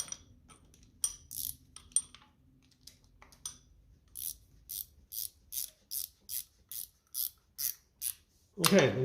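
Wrench ratcheting on a nut of a 1957 Ferguson FE35 TVO tractor engine during valve clearance work: a steady run of about ten crisp metallic clicks, close up, ending in a louder clunk.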